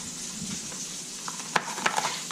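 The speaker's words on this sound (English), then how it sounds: "as you can see, our meat is cooking" Meat fries in a pan with mushrooms and peppers for a paleo dish, giving a steady close sizzle with a few louder pops and stirring clatters near the end.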